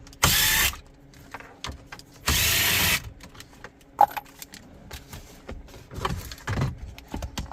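A ratchet or power driver loosens 7 mm bolts holding a CD changer in a 2014-2018 Chevy/GMC dash: two loud whirring bursts a moment apart, then scattered clicks, clinks and handling noises close by.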